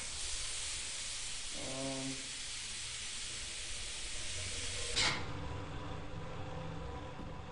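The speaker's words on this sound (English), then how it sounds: "Here we go, I stopped the steam for once." Steam hisses loudly and continuously from a pipe in a video game, a broad airy rush that cuts off abruptly around five seconds in, leaving a quieter hum with a brief tonal beep earlier.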